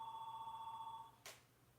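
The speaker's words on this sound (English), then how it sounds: "The phone is currently ringing." A telephone rings with a steady electronic trill that holds for about a second, then stops abruptly, followed by a short sharp click or thud in an otherwise quiet room.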